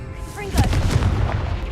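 A Bombarda blasting spell in Hogwarts Legacy goes off as a booming explosion with rumbling low impacts and a crackling tail, while a voice talks over it.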